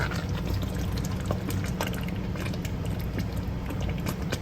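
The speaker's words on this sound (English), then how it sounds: "we're going to go ahead and reserve some of this pasta water and use it to mix with our sauce" Reserved pasta water pouring for a Bolognese sauce, a continuous close splashing gurgle of liquid streaming into a pot, steady and fairly loud with no voices.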